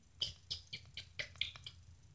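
Small bird chirping in quick, high, thin tweets, about eight short calls in a steady irregular rhythm, faint and alone over low background hiss.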